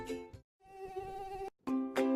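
Whining, high-pitched mosquito buzz in close, sustained bursts with brief gaps between them, loud and clear with no voices.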